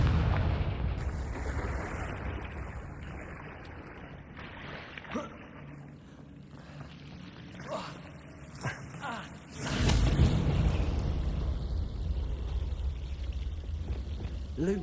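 A Confringo blasting spell from Hogwarts Legacy erupts in a sudden, loud burst about two-thirds of the way through, followed by a rumbling tail. Softer ambient game sounds come before it.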